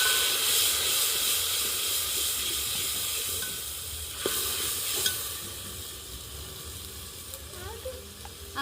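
Oil sizzles and crackles steadily as a ground garlic and onion paste fries, with a hissing wash of noise and a few sharp pops, gradually settling down.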